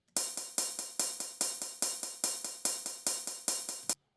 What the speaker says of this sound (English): this is how the hi-hat sounds here